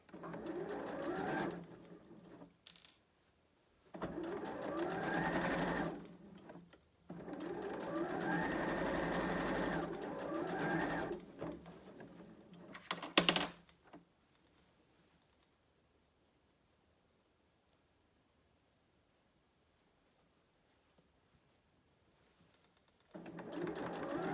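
A sewing machine runs in several bursts of stitching through pant fabric, each run a few seconds long with short pauses between, then a sharp clack and a long quiet stretch before the motor starts again.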